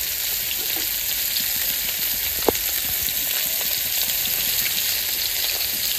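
Fish shallow-frying in a pan in a home kitchen gives a steady, close, even sizzle and crackle throughout, broken once by a single sharp click.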